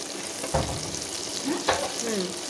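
Potatoes frying in a pan for pasta, a continuous sizzle with scraping stirring strokes and a couple of knocks from the spoon, close up, with faint voices in the background.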